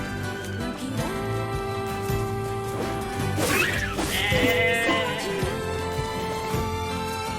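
Sheep in the NieR: Replicant video game bleat a few times, wavering cries rising briefly over a busy, layered game soundscape.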